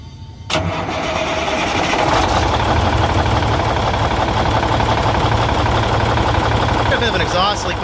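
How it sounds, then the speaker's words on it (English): A large Cummins N14 diesel truck engine with a slight exhaust leak cranks and catches, then settles into a loud, steady, rumbling idle close by, with some rattling throughout. "Got a bit of an exhaust leak, but it sounds pretty decent. Engine runs nice and smooth."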